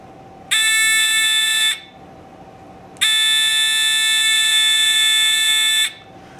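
An electric buzzer sounds twice, a short harsh blast then a longer one, loud and close, with silence between.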